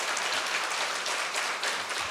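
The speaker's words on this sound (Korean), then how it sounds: "위로의 격려의 박수 한번 다시 한번." A church congregation gives a steady round of encouraging applause during a Sunday service, a dense wash of many hands clapping continuously for about two seconds with no voices on top.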